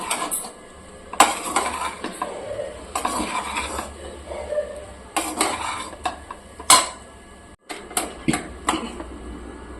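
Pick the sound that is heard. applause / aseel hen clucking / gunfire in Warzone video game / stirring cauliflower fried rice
stirring cauliflower fried rice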